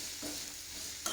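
Mango pieces being stirred in hot oil for mango pickle, giving a soft, steady sizzle with faint scraping of the spoon, close and alone, ending in a brief sharper clink.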